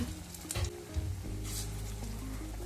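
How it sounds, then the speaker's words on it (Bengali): Flattened spinach fritters fry in a pan, giving a low, steady sizzle with a few soft pops and sputters near the start, quiet and close, with no voices. "তো এইভাবে চ্যাপটা চ্যাপটা করে আমি ভেজে নিচ্ছি"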